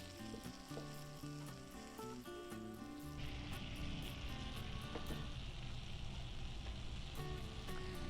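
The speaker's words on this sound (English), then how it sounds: "I'm just going to put that in here and let that start melting" About four tablespoons of butter melting in a pan over medium heat, a steady crackling sizzle that grows denser and louder partway through, with faint clinks and background music underneath and no talk.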